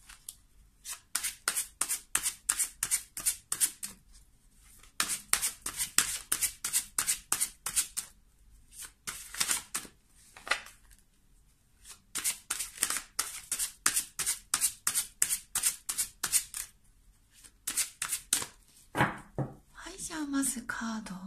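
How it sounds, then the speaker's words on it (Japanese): Tarot cards shuffled in quick bursts of crisp riffling flicks, several runs separated by short pauses, close and fairly soft, followed by a card being drawn and laid down with a brief rustle at the end. "まずこちらから10枚カードを出していきますね"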